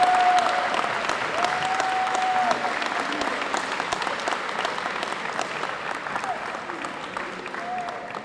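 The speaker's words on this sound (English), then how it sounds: "please give Kelly, Tara, Diane, Melanie, Jess, and Jen a round of applause for their dedication and support of our student athletes" A crowd applauds volunteers at a high school varsity jacket night, a dense, steady roar of many hands clapping that holds throughout with slight cheering and faint voices mixed in.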